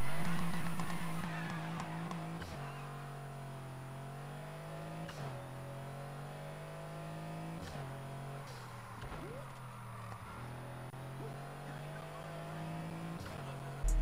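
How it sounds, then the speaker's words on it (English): A Mercedes-Benz AMG GT revs in the Need for Speed Heat racing game, its engine rising and falling in repeated pitch sweeps, with gear-change breaks and brief voice over the steady drone. "Let's get a little sound test."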